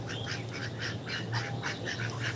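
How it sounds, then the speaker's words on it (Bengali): Several Muscovy ducks quack in a quick, overlapping series of soft, raspy calls, close by and continuous against a faint background hum. "এখানে দেখা যাচ্ছে অনেকগুলা হাঁস যেগুলোকে আমরা চিনহাস বলি"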